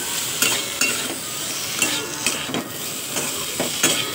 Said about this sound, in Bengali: উচ্ছেটা দিয়ে দিয়েছি, এবার নাড়তে থাকবো যতক্ষণ।